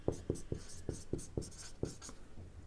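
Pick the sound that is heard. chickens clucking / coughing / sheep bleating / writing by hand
writing by hand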